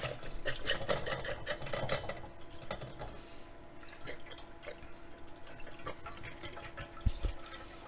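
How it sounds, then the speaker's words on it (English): Pan juices from a pork roast in onion gravy strained through a small kitchen strainer, heard as a close, steady trickle and dripping with light metallic taps, and a sharper knock near the end. "we just want to use a little strainer here"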